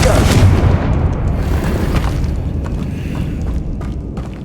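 A Confringo spell from the Hogwarts Legacy video game erupts in a loud, close booming blast that rolls off into a rumbling decay, with a crackling burst at the start and a voice calling out underneath.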